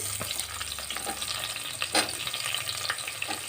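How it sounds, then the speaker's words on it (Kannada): Long-sliced onions fry in a hot pan with a steady, close sizzle, broken by crackles and a few scraping stirs. "ಒಂದೆರಡು ಈರುಳ್ಳಿನ ಹೆಚ್ಚಿಟ್ಕೊಂಡಿದ್ದೇನೆ ಅದನ್ನು ಹಾಕ್ಕೊಳ್ತಾ ಇದ್ದೇನೆ"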